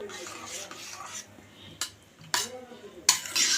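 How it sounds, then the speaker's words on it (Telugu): Green chilies, brinjal and onion stirred into yogurt in a bowl for a vankaya perugu pachadi, giving close, irregular scraping and clinking bursts of a spoon against the dish, some sharp and bright, over faint background. "పెరుగులోనే ఈ పచ్చిమిరకాయలు వంకాయలు ఉల్లిపాయ ఇలా కలిపేసుకుందాం"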